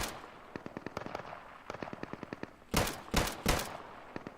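Gunfire in the video game Deadside: a run of sharp, evenly spaced rifle shots, followed by three louder, heavier blasts close by, with no talk.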